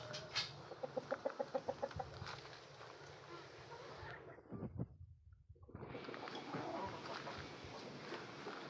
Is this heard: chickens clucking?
yes